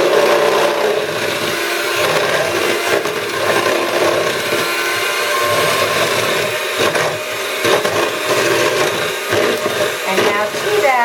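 An electric mixer creaming butter and sugar for everything biscotti batter, a loud steady whirring drone with grinding, rubbing texture that varies slightly as the beaters move through the bowl.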